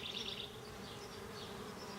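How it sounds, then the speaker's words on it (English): Honey bees buzzing at an open hive during an inspection, a faint steady drone with a few higher whines from individual bees passing close. "is that bee trying to sting that other bee?"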